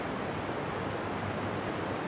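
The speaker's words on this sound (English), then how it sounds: "Wind the squelch down until we start to hear static coming through." Steady broadband hiss of static from an XCOM VHF aircraft radio with the squelch turned down, even and unbroken, filling the whole stretch with no other sounds.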